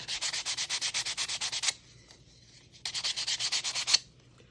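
Rhythmic back-and-forth sanding strokes rasp across a spray-painted wooden journal cover, two quick runs of even strokes separated by a short pause, close and alone.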